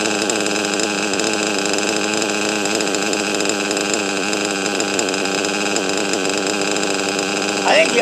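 A Novarossi Elite 5 nitro engine idles at a steady, rapid buzzing pitch close by, running continuously without pause.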